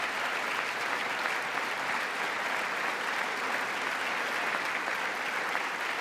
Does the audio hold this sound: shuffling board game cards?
no